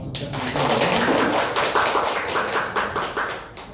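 An audience at a trading seminar breaks into applause for a coach: a dense, steady patter of many hands clapping nearby for about three seconds before tapering off.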